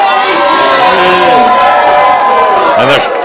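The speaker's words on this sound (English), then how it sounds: "And the crowd goes wild." Loud darts-hall crowd at a workingmen's club roars and cheers after a 180 is thrown, a dense continuous wall of shouting and whooping lasting throughout, with a caller's voice riding on top.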